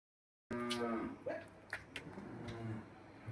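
Cattle in a shed with heifers and cows low with long moos at the start, followed by fainter lowing and shuffling stable noise.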